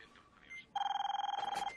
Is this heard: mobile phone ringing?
yes